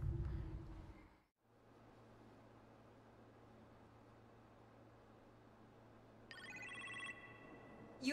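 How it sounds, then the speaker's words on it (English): A telephone rings in the Iron Man VR video game, a synthetic multi-tone ring that starts late, lasting about a second over a steady low hum and room tone, with no talk. "You appear to have a phone call in the kitchen, sir."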